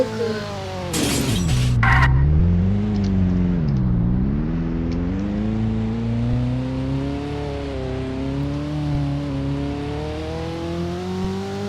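A car engine revs in the video game Dealership Simulator, a loud, steady engine drone whose pitch drops, climbs and wavers. A brief crash-like clatter comes near the start, and there is no talk.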